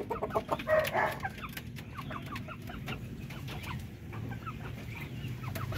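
Caged Darag breeder chickens cluck in short, irregular bursts, louder at first and then quieter and scattered, with faint background farmyard ambience.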